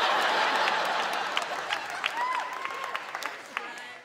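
Audience at a comedy show clapping, a burst of applause that gradually thins out, with scattered laughter and voices rising over the tail.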